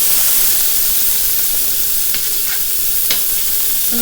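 Turkey burgers frying in a pan, a loud, steady sizzle and hiss with a couple of brief sharp pops or spatula scrapes.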